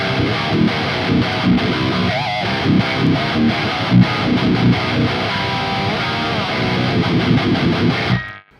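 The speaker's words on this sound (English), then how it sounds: "It's just straight chugs." Heavy high-gain electric guitar chugs through a Neural DSP Archetype Gojira amp patch with no reverb, tight palm-muted rhythmic bursts played loud and dry before cutting off abruptly.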